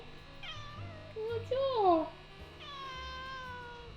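A cat meows several times, rising and falling cries close by, with a person's voice speaking briefly between them.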